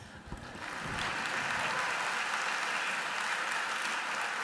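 Applause from a commencement audience at a nursing college ceremony, a sustained dense clapping that swells after the first second and holds steady to the end.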